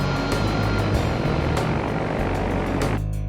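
Propeller engines of a water bomber aircraft drone loudly and steadily throughout, a dense continuous roar with no voices.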